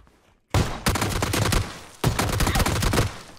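Gunfire in the battle-royale game PUBG, loud and close, in two dense rattling volleys of rapid shots with a brief break between them.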